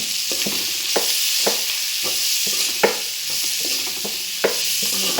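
Spices, cumin powder and ginger among them, frying in a hot pan: a steady close sizzle with regular scraping strokes of stirring about every half second, no voices.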